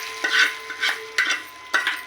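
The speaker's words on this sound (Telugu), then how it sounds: "పోపు అనేది సాంబార్లో వేసేసుకుందాం ఫ్రెండ్స్." Tempering fried in oil is poured into toor dal sambar, giving a few sharp sizzling bursts and stirring scrapes that repeat roughly every half second, close and moderately loud.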